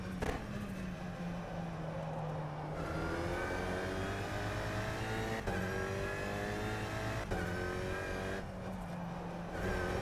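An Alpine racing car engine in the rFactor 2 racing game revs and shifts through gears repeatedly, rising and dropping in pitch, loud and continuous with no talking.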